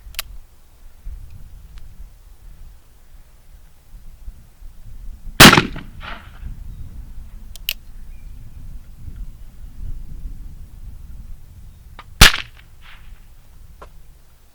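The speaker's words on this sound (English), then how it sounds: "take a few shots with it as soon as I get my ears in here. A little bit of a hang fire." Uberti Remington 1858 cap-and-ball revolver shots with a hang fire, two sharp, loud reports several seconds apart against a quiet outdoor background, each with a brief trailing echo.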